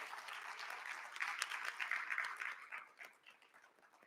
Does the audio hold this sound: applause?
yes